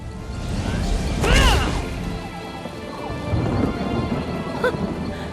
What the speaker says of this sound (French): l'orage se dissipe